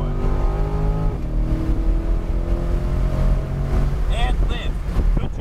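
A C8 Corvette on a race track at Palm Beach International Raceway rolls onto the throttle, its engine tone rising steadily as it accelerates. A voice speaks over the loud engine noise throughout.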